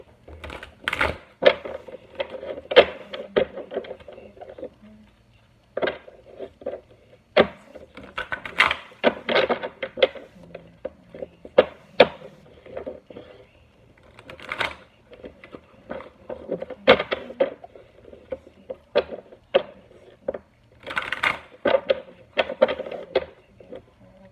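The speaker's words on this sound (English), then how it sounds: "I pre-shuffled a little bit off camera, so I'll just do it a couple more times and then we'll get started." Shuffling a deck of playing cards, repeated bursts of crisp riffling and tapping in short rhythmic bouts with brief pauses between, close by and without talking.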